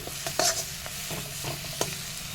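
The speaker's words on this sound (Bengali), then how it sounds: "প্রায় সব রকম গুঁড়ো মশলা দিয়ে খুব সুন্দর করে এটাকে কষিয়ে নিচ্ছি" Khichuri spice masala made with ground spices fries in a pan under quick stirring, a steady sizzle broken by several soft scraping strokes and a couple of louder clacks, up close.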